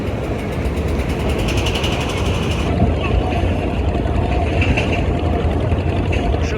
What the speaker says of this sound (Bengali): ঠিক 9টা 30 মিনিটে তৃতীয় পজিশনে বের হয়ে যাচ্ছে এম খান 7 লঞ্চটি আজকেও